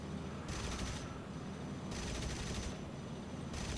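Aircraft machine gun fire in War Thunder, a Hurricane's guns rattling out in sustained bursts with short pauses between, loud and close over a steady engine drone.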